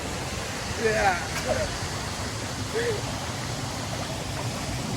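A waterfall stream at Wat Phu Huai Sai rushes with a steady broadband roar, joined by a few short high chirps.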